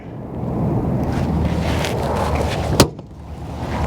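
A single sharp, solid slam of a 2019 Newmar Bay Star Sport Class A motorhome door stands out against steady wind and outdoor rumble, followed by quieter ambience.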